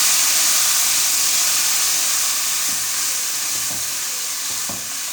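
Semolina roasting for a milk-and-egg halwa sizzles and hisses steadily as milk is poured in, with a spoon stirring and scraping the pan in a few soft clinks toward the end.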